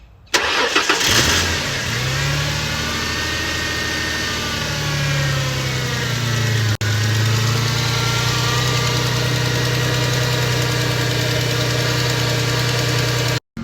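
A 1999-2004 Ford Mustang with a 3.8L V6 cranks briefly, fires up and settles into a steady, loud idle close by after a new alternator install, with no talk.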